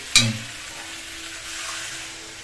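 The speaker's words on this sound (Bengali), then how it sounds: "এবার আমি জল দিয়ে দিই" Water pours into a hot pan of kohlrabi and hilsa fish curry, setting off a sharp burst of hissing that settles into a steady, close sizzle with no talking.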